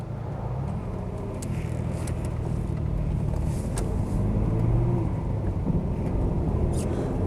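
A Ford Capri 2.8 injection driving on a road, heard from inside as a steady, loud low engine and road rumble with a few faint ticks and rattles, no one speaking.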